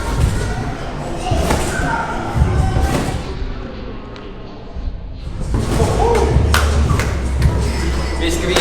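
Heavy thuds of a sideflip landing on a trampoline, a few dull bounces and impacts over a steady background with faint voices.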